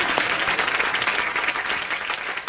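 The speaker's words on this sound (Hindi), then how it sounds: "क्या मोमो के धागे की स्टार कास्ट के लिए तालियां।" Studio audience on a Hindi comedy talk show's Sony anniversary episode breaks into sustained, loud applause, a thick wash of clapping welcoming the guest cast.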